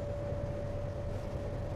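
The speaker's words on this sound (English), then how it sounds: "When this prong of the tuning fork is gently strike to a pad," A 512 hertz tuning fork struck on a pad rings as a faint, pure, steady tone that sustains evenly, heard alone against a low background hiss.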